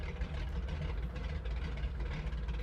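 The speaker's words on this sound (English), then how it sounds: "that throaty putt of the radials at low power is really nice" Radial engines of a Grumman Goose idle in a flight simulator game, a throaty, low putter, a steady rough drone at low power with no voices.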